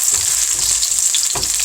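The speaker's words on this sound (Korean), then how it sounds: "저는 이렇게 기름에 뭔가 볶아질 때 이 느낌과 이 소리, 이 향이 그렇게 좋을 수가 없어요." Pork stir-frying in hot oil in a pan, a steady loud sizzle with occasional stirring scrapes and bursts of spatter throughout.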